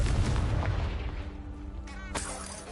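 A Confringo spell blast in the Hogwarts Legacy video game lands as a loud, deep booming burst at the start, its rumble fading across the next couple of seconds with a faint sharper pop near the end.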